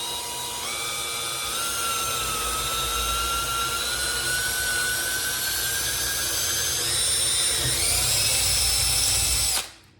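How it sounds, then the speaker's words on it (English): Power drill boring straight through a painted kitchen cabinet door for hardware, a close, steady high whine that climbs slightly in pitch, runs about nine seconds alone, then stops abruptly. "I'm just going to drill right through it"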